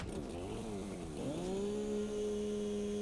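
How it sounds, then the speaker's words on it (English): A chainsaw from the video game Satisfactory revs with a wavering, rising and falling motor pitch, then settles into a steady, sustained buzzing drone, loud and alone. "We got chainsaw."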